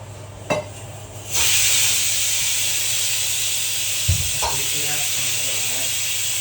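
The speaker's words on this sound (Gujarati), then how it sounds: "સીટી બંધ થાય કુકર ઘડીક સાઈડમાં લઈ જાઓ" A loud, steady steam hiss from a pressure cooker starts abruptly and keeps going, with a few clicks and a brief voice underneath.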